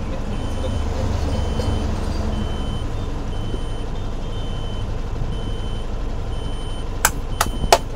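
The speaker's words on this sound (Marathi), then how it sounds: "गाडी चालू केली हवा भरली जाईल" A truck engine idles steadily with a low rumble throughout, and a few sharp beeps sound near the end.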